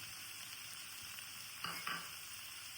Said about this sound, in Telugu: కొంచెం ఫ్రై అయినాక అల్లం మిల్లిగడ్డ పేస్ట్ అవన్నీ వేసుకున్నాం